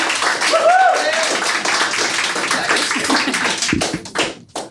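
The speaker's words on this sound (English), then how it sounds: "polite applause would be appropriate" Polite applause from a seated audience at a live podcast taping during an Irish festival in a theatre, a scattered patter of clapping mixed with a few voices that thins out toward the end.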